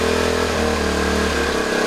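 A Honda Trail 90 motorcycle found stored in a shed runs at a steady idle, a loud, close, continuous engine drone with no talk over it.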